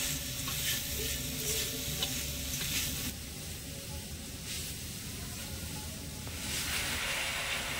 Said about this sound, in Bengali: হালকা আঁচে নেড়ে চেড়ে একটু পাক দিতে থাকবো।